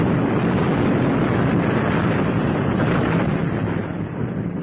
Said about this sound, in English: An explosion rocked the building